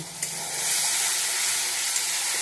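Turmeric and salt sizzle and fry in hot oil in a pan, with a steady, close, loud hiss that runs throughout, broken by a couple of faint clicks and no talking.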